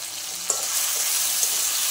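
Spices with turmeric and salt sizzle and fry in a pan for a Bengali fish curry, a steady close hiss with a small clatter of stirring partway through.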